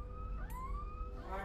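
Ambulance siren in a remote village in Madhya Pradesh, India, with few roads; a single wailing tone sweeps up and holds over a low engine rumble, fairly distant and faint.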